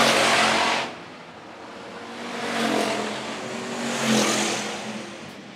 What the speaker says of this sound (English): Tanner Jones starting to reel in Craig Smith for that second spot, the 12T car